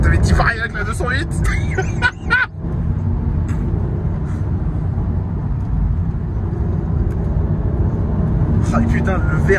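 Audi TT MK2 with a naturally aspirated 3.2L VR6 accelerating, a sustained rumbling engine drone from inside the car with a short gear-change dip, while people speak over the start and end.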